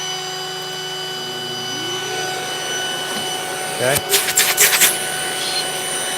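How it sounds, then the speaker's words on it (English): A shop vacuum connected to a DeWalt router dust collector runs with a steady, loud whine and drone throughout, while someone briefly speaks and a short rasping noise cuts in near the middle. "turn on the vacuum"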